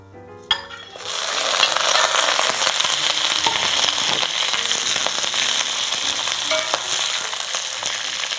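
Chicken feet drop into a wok of rock sugar caramelized to a light wheat color with garlic and ginger, setting off a loud, continuous sizzle that follows a brief clatter.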